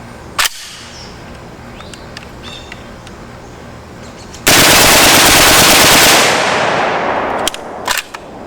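An HK-91 rifle fed from 20-round magazines fires a loud, rapid unbroken string of shots lasting a few seconds, preceded by a single sharp crack and followed by a couple of isolated reports.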